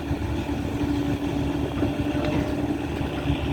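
A Kobelco SK120 Mark 3 excavator loads soil into a six-wheel dump truck, its engine a steady, close, low droning rumble that holds evenly throughout with no voices.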